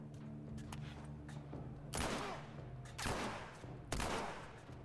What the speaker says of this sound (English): Are you trying to shoot this guy? Why isn't anyone shooting him but me?